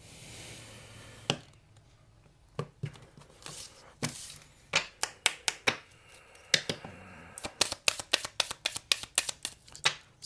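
A deck of oracle cards is shuffled for a reading, first with a few scattered riffles, then with a quick run of sharp, close flicks and snaps.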